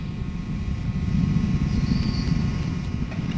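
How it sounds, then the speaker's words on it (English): Space Shuttle Discovery's three main engines on the STS-133 launch in 2011 as a steady, dense low rumble that swells slightly midway and holds constant, with no voices. "Discovery's three main engine throttle back up"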